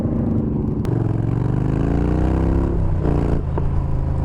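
Yamaha Bolt motorcycle engine, loud and close, a deep throbbing rumble that rises and falls through revs with shifting pitch, continuous for about four seconds without any voices.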